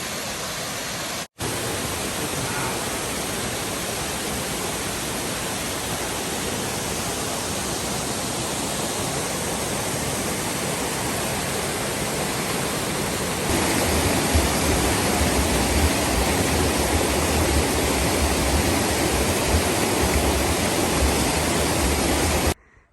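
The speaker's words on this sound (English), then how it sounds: "Wow, look at this gorgeous waterfall." A waterfall and cascading mountain stream beside the Appalachian Trail, a loud, unbroken broadband roar of rushing water that holds steady throughout and grows slightly fuller partway through.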